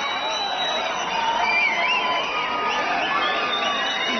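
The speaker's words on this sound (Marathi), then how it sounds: "एमजी रोड मेट्रो स्थानकात मोठी गर्दी पाहायला मिळते" A large crowd packs MG Road metro station in Bengaluru after an RCB victory parade, a dense, continuous roar of shouting and cheering voices with whoops rising over the din.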